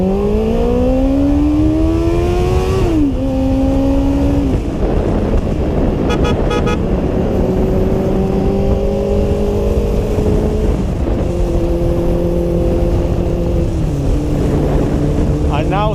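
Kawasaki GPX600 motorcycle accelerating through the gears, engine pitch rising and dropping at each shift into higher gears, loud and sustained with wind noise, with a voice heard briefly.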